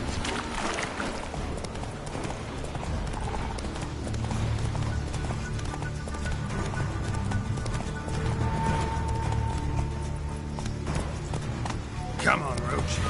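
Roach, a horse in The Witcher 3: Wild Hunt, gallops with steady clip-clop hoofbeats under continuous music and game ambience, with a voice speaking over it.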